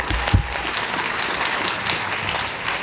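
Sustained applause from a debate audience at the Copenhagen European Universities Debating Championship ESL grand final, a steady, dense clatter of many hands clapping at even loudness throughout, with no talking.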